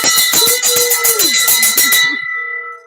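Handbell rung rapidly in a room, a fast series of loud bright metallic strikes lasting about two seconds, then a clear ringing tone that fades away alone.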